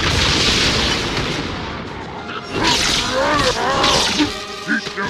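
Gunfire from the video game Halo 2, with dense, continuous bursts and booms filling the scene, loud and close, and a player's voice speaking over the shooting.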